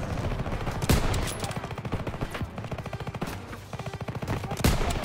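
Rapid automatic gunfire rings out in a World War II video game. Dense bursts of loud shots repeat in quick rhythm, with a few sharper single blasts standing out.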